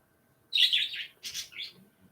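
Pet birds chirping indoors in a home on a Saturday morning: a short burst of quick high tweets, a brief pause, then a second cluster of chirps, fairly faint and heard alone without talk.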